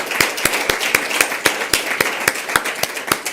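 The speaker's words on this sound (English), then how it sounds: "Let's give ourselves a round of applause for a productive day" Audience applause at a peatlands partners' conference, heard as a steady run of sharp, regular claps close by, alone with no talking.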